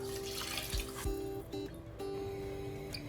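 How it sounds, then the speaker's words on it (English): Water being poured into a pot of rice cooking with peppers and veggie stock for vegan dirty rice, a steady trickling fill with a brief splash near the start, fairly quiet and heard alone. "I'm adding just a little bit of water, just so that there's enough liquid to cook the rice."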